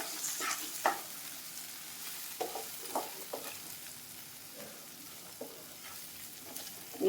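Chinese idli mixture is stirred and stir-fried in a pan, giving a steady, soft sizzle with scattered scraping clicks and taps of the spatula, close by, and no talking.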